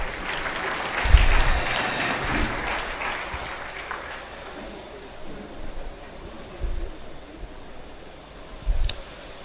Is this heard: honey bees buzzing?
no